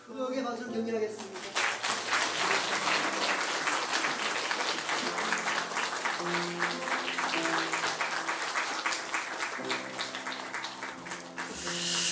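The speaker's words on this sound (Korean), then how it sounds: "크게 박수를 경례하겠습니다." A church congregation applauds loudly and continuously for about twelve seconds, dense clapping filling the hall during a Sunday worship service, with a brief voice at the start.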